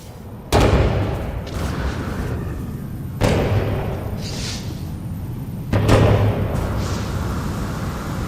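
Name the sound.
fireworks exploding in No Man's Sky video game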